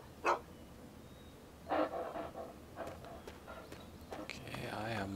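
A dog in the video game Fallout 3 gives a few short, separate barks, spaced apart and set against other in-game sounds.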